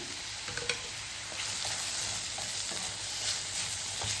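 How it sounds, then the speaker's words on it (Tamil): Chopped medium tomatoes sizzle in hot oil in a pan for paneer bhurji, with a steady close frying hiss and occasional scraping stirs of a spoon, no voices. "மீடியம் சைஸ் தக்காளியை சின்னதாக கட் பண்ணி வச்சுருக்கேன். அதை சேர்த்துருக்கேன்."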